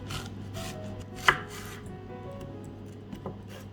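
A knife halves a red onion, giving one crisp cut over quiet background noise, with faint soft scraping before and after.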